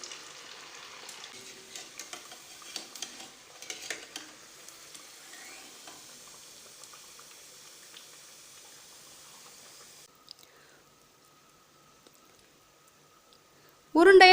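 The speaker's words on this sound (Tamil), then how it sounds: "இதில் இது எண்ணெய்க்கு எவ்வளோ கொள்ளுமோ அந்தளவுக்கு மட்டும் போடுங்க" Broken wheat vadai frying in hot oil, a steady soft sizzle that bubbles more actively early on, then quiets to a faint hiss before ending with a sudden loud burst.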